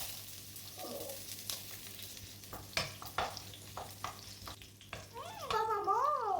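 Garlic and onion fry in olive oil and get stirred in a pan. A soft sizzle sits under scattered scraping and clinks, and a brief voice-like warble comes near the end.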